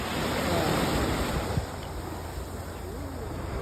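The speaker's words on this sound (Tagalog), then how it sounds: "So, Justin, nandito sa dagat." Sea waves washing onto a beach make a steady broadband surf roar mixed with wind buffeting the microphone, with faint voices now and then.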